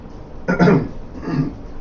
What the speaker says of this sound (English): Clear my throat for you.